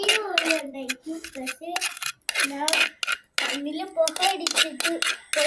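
Food being mixed in a cooking pot, metallic clinks and scrapes of a utensil against the pot under nearly continuous close talking, including a voice.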